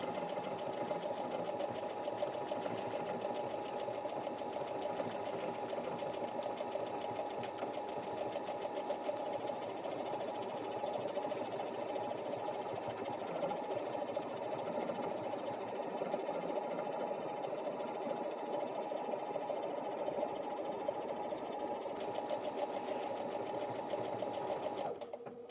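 A Brother Inventio NV1850Q sewing machine embroiders the word brother, a steady, close, mechanical whirring hum that runs unbroken for the whole stretch.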